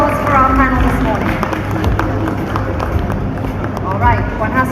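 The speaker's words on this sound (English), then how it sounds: "a big round of applause for our panel this morning" Audience applause for a morning panel at a web launch event, a sustained wash of many hands clapping with some crowd murmur and voices underneath.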